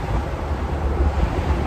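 Steady rushing wind noise buffets the microphone while driving a 2021 Ford Bronco Wildtrak SUV, a continuous low roar that fills the cabin with no talk over it.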